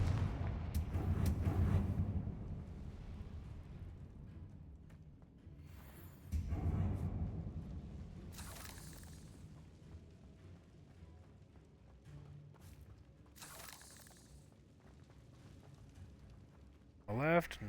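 Confringo blasting spell explosions in Hogwarts Legacy, several booming bursts spread across the stretch with sharp crackling flares between them, mixed with game effects and someone talking over the action.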